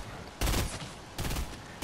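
Gunfire in the video game Fortnite: two loud bursts of rapid shots, close and sharp, separated by a short lull of quieter background noise.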